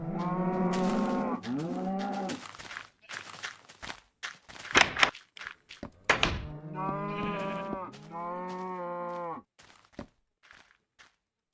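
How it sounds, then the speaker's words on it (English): Several cows mooing in Minecraft Alpha, long low drawn-out moos repeated in overlapping calls, mixed with dull thunking game sounds between them. "It's a cow storm. Or swarm, whichever you prefer."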